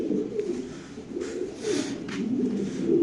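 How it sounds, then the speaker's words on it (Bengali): Black fancy pigeons, a male and female pair at a Lahori pigeon farm, coo in low, steady, overlapping murmurs with faint background noise and no talking. "এখানে আছে এক জোড়া কালো শৌখিন কবুতর"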